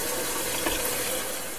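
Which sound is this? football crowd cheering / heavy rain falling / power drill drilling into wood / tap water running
tap water running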